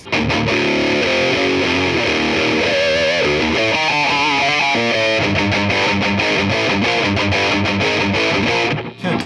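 A heavily distorted electric guitar plays through an overdrive pedal continuously and loudly, chords and riffs with a thick, gritty overdriven tone, no voices.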